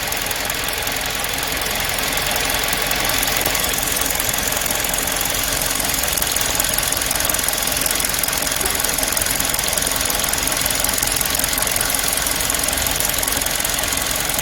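A car engine idles steadily and loudly, up close and alone. The car has mis-set spark plug gaps and a steering fault.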